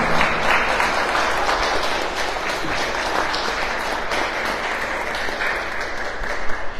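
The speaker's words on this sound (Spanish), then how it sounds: "quisiera pedir nuevamente un aplauso muy fuerte para" An audience at a Latin American poetry panel gives the speakers a loud, sustained round of applause, dense and even clapping that fills the room throughout.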